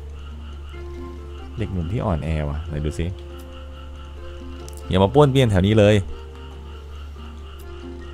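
Frogs croak steadily outside during rain, a low continuous chorus sitting under bursts of a voice and game dialogue.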